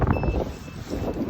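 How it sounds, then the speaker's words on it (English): A drone remote control beeps from inside a bag, giving a thin high tone muffled by the fabric, with two short beeps over a brief moment against wind and low background noise. "The remote control keeps beeping."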